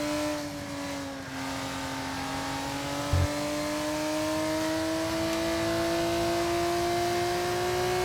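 Race car engine in the video game F1 25, a steady droning whine with rising pitch as the car accelerates, continuous and fairly close throughout with a brief low thump near the middle.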